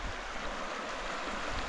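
Low river flowing steadily in remote backcountry, a constant soft wash of moving water with a faint breeze and no voices.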